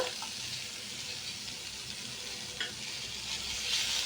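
Vegetables with tomato pieces for a vegetable chutney cooking in a pan, giving a steady close sizzle and soft frying crackle with faint stirring clicks throughout, no voices.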